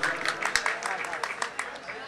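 An audience applauds at a live stage program in Mumbai, with a steady patter of hand claps lasting a couple of seconds under a speaker's voice.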